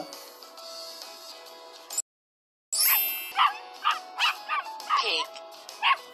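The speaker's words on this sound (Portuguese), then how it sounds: "O cachorro." Several short dog barks from a children's animal game in an irregular series, close and clear, following a brief moment of silence.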